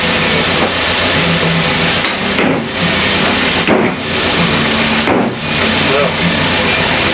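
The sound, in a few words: Renault 11 engine idling unevenly with carburetor air leak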